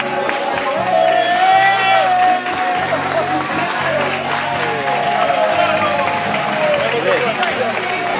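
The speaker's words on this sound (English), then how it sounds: "Foreign shareholders getting clapped in." Crowd of supporters clapping and cheering as foreign shareholders of Real Oviedo arrive at the training ground for a pre-match barbecue, steady applause with scattered whoops and voices throughout, loud and close.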